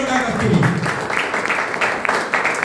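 An audience at a health awareness program in Sagar, Madhya Pradesh, breaks into clapping. The applause builds and holds at a moderate level after a voice over a microphone.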